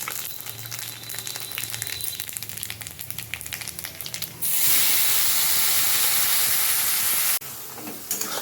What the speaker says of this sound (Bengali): এদিকে জিরে আদা আর কাঁচা লঙ্কার পেস্টটাও দিয়ে দিলাম